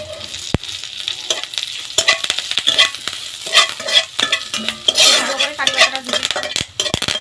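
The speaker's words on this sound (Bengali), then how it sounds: "একদম আমি কারি পাতাটা কড়কড়া করে দিয়ে দেবো।" Curry leaves fry crisp in a hot pan for a restaurant-style 65 recipe, giving a loud, steady sizzle close by, broken by the scrape and clink of a spatula stirring against the metal.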